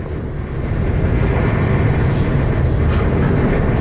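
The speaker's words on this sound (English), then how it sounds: "the train just has to go this slow through this tunnel" A train creeps slowly through a tunnel, giving a loud, enclosed, continuous low rumble and steady rolling noise that builds slightly at the start and then holds, with no talking.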